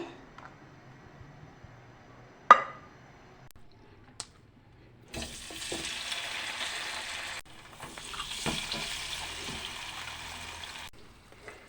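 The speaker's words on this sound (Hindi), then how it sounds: "अब इस तरह हम अपने टिक्के को फ्राई करेंगे।" Marinated beef boti tikka coated in cornflour frying in a pan. After quiet clatter and a sharp knock, a soft steady sizzle starts and continues with brief breaks, fairly faint and close.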